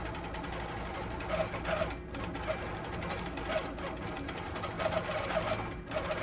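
A sewing machine doing free motion quilting runs in a fast, steady mechanical chatter, with brief pauses and speed changes as the stitching continues.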